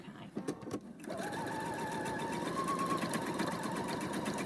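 A domestic sewing machine doing free-motion zigzag stitching starts after a few soft handling clicks, then runs as a steady, loud, close whir with a rhythmic needle chatter and a faint whine.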